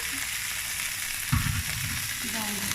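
Zucchini rosettes sizzle and fry in a pan with a little salted, peppered water, a continuous crackling hiss with a brief clatter of the pan or utensil partway through, close up and without talk.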